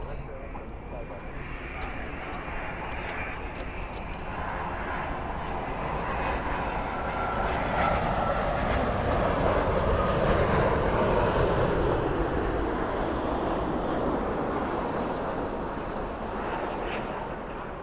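Airliner jet engines at Los Angeles International Airport roar steadily for the whole stretch, swelling louder toward the middle as a plane passes close, with wind buffeting the microphone and occasional voices mixed in.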